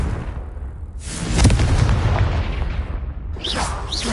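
A Confringo fire spell explosion in the Hogwarts Legacy video game on PS5, a loud deep boom with a rumbling burst that lingers for a few seconds before fading, followed by brief sharp magical effects.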